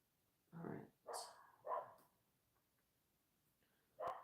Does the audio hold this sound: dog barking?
yes